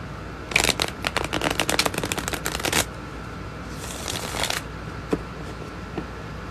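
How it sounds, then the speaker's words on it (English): A deck of tarot cards is shuffled close up: a long crisp riffle of rapid flicks for about two seconds, a softer second riffle after a pause, then a few light taps as the deck settles, no voices. "I'm going to shuffle my damn cards for a minute"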